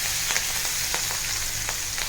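Asafoetida and green chili paste sizzle in hot oil for an aloo, peas and capsicum sabzi, a steady close frying hiss with a few faint stirring scrapes.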